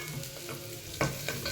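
Ridge gourd pieces frying in a pan for sambar sizzle steadily, with a couple of sharp stirring scrapes standing out near the end, close and clear.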